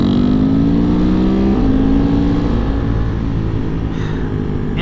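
A Husqvarna Svartpilen 701 motorcycle engine pulls hard under acceleration, its loud, close drone rising in pitch, dipping briefly at a shift, then climbing again.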